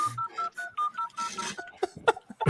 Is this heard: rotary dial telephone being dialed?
yes